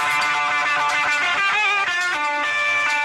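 Lead electric guitar solo from a song, a bright, distorted run of quick sustained notes over a full band backing, loud and continuous without any talking.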